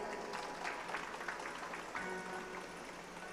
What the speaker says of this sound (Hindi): इनके लिए भी ताली बजाओ